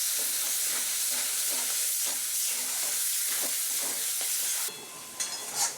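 Young jackfruit paturi masala is stirred in oil in a pan, a close, steady sizzle broken by scraping strokes of the spoon, then a brief quieter stretch with a few clinks near the end.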